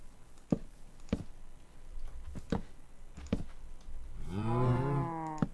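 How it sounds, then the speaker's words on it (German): A Minecraft cow lets out a low, drawn-out moo near the end, preceded by several sharp knocks or clicks from the game spaced about a second apart, with no talking. "Gut, dass die Kuh hier direkt rausspringt."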